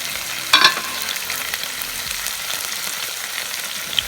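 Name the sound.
pepper chicken frying on a tawa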